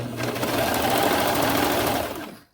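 A serger sewing machine runs in one steady, fast continuous whir as it serges off the end of a fabric seam, loud and close, with no talking, then cuts to silence at the end.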